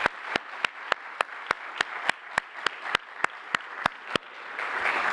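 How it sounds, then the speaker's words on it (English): Rhythmic single claps at a summit, about fifteen sharp, evenly spaced hand claps, close and distinct over a low background hiss, with a softer swell of crowd noise at the end. "I want to give her a round of applause"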